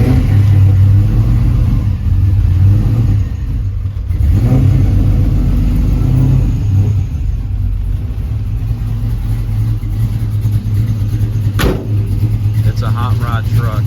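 Built 5.7 LS1 V8 from an 04 GTO, with heads, cam, headers and a performance exhaust, idles loudly in a Chevy 3100 hot rod truck with a steady low rumble and a brief rev near the end, while someone talks over it.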